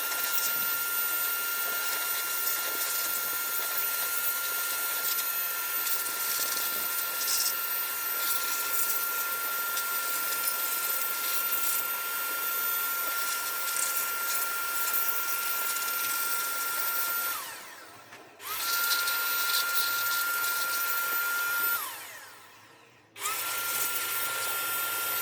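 Compressed air blows dust out of a 1975 Sony KV-1340UB Trinitron CRT television, a loud, steady hissing whine that runs continuously and cuts out twice briefly near the end.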